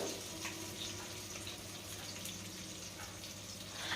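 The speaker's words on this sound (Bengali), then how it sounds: "লবণটা দিয়ে এখন ভালো করে পেঁয়াজ আর টমেটোটাকে ভেজে নিতে হবে" Chopped onion and tomato frying with salt in a pan, a steady soft sizzle and bubbling hiss held at an even level with no talk over it.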